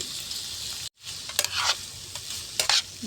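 Poha is stirred with four salted eggs in a frying pan, giving a soft sizzle with a few quick scraping spatula strokes and a short silent gap near the start.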